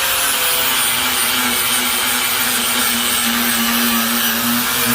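An angle grinder runs steadily and loudly for the whole stretch, smoothing the edge of a wooden subwoofer box built for two Skar SVR 15-inch subs, with a sustained whine over rough grinding hiss.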